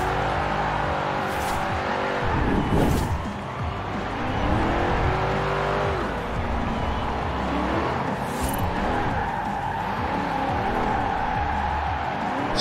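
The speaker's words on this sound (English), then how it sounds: "Right, I got me bloody van to test out my drifting." A van drifts in the Forza racing video game, its engine droning and tires squealing and skidding in repeated sweeping bursts, loud and continuous with no talking.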